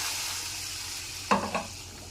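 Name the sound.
cumin seeds sizzling in hot oil for tempering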